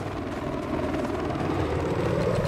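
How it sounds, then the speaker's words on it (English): Helicopter in the multiplayer shooter Battlefield 4, a steady rotor and engine drone that swells slightly louder over its span, heard without speech. "Oh, there's our helicopter."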